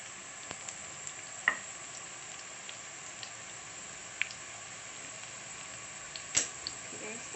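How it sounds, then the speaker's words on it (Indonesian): Shallots frying in oil until browned give off a quiet, steady sizzling hiss, with a few sharp pops and crackles scattered through it. "Kita tumis bawang merahnya tadi sampai udah coklat-coklatan itu."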